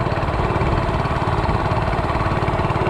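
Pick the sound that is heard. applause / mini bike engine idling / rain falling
mini bike engine idling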